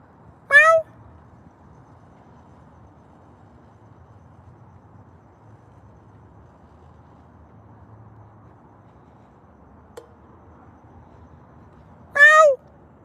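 A Siamese-looking tomcat meows twice outdoors on a windy night, one short meow at the start and another near the end, separated by a long stretch of quiet ambient hush.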